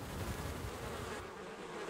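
Honey bees buzzing inside a beehive, a dense steady hum of many insects, faint and continuous throughout.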